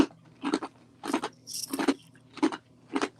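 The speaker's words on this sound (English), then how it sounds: "Chewing ice." Someone chews ice, with five loud, crisp crunching bites at roughly half-second to one-second intervals, each a sharp crackling burst heard up close.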